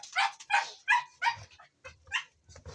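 Hungry pet dogs bark and whimper in a series of sharp, close yips and yelps, about eight bursts in quick succession with brief low whines between them.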